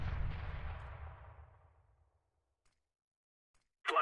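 Decoy grenade in Counter-Strike: Global Offensive imitating gunfire: an opening burst of loud shots that rolls away into a fading rumble over about two seconds, then quiet, then a short sharp crack at the very end.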